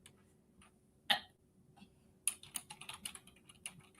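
Quiet, close keyboard typing: a single sharp tap, a pause, then a run of quick, uneven keystrokes clicking steadily with no voices.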